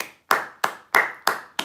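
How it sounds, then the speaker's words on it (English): Five slow, evenly spaced hand claps from a single person, close and distinct with brief gaps between them. "Round of applause, people."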